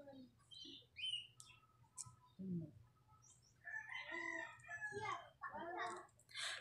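A red rooster crows loudly and clearly over a low background hum, its long call rising and falling, with a few brief clucks and short sounds before it.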